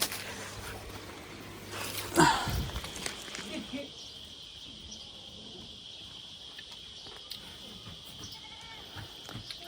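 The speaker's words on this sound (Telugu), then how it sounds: "ఈ మేకలు అయితే వెనకాలే వస్తున్నాయి" Goats bleat faintly as they follow behind in a rural forest setting, with a brief loud burst near the start and soft rustling and movement after.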